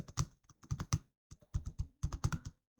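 Clicks and keystrokes on a computer keyboard during data entry in an Excel spreadsheet, arriving in quick irregular bursts of taps with short pauses between, close and clear with no talking.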